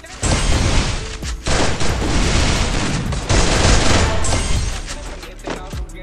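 Rapid automatic gunfire from Garena Free Fire gameplay, loud and sustained bursts with brief gaps, booming shots layered throughout with no talk over it.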